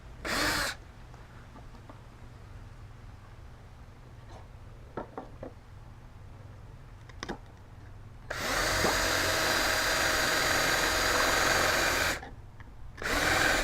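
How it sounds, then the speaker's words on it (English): A power drill bores holes in wood for a Father's Day gift build, with a short whir at the start, quiet work noises and light taps in the middle, then a long steady whine of about four seconds and another burst at the end. "Now he's drilled the holes"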